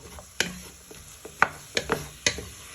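A spoon stirring Beef Madras ingredients cooked in tomato puree in a pan, scraping and knocking in four or five sharp, irregular strokes over a soft sizzle, close and fairly quiet.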